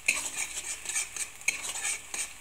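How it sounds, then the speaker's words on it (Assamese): A spoon scrapes and stirs raw potato with onion, ginger, garlic and turmeric fried in hot mustard oil in a pan, giving repeated close scraping strokes over a soft sizzle, with no talking. "এইখিনি মই এতিয়া ভালদৰে লৰাই দিছো"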